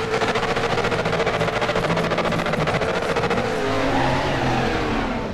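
A Ford Mustang DTM '92 race car in RaceRoom drones loudly and steadily at the start line, its engine note rising and shifting toward the end, with no voices over it.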